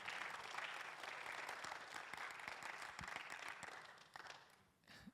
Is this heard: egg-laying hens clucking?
no